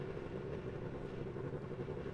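Several Formula 3 cars idle together on the grid at Zandvoort in a sim racing game, giving a continuous throaty low engine rumble, steady and close, with no voices.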